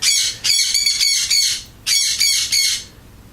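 A pet parrot squawks indoors, loud and close, in harsh, grating bursts that repeat in two runs separated by a short pause.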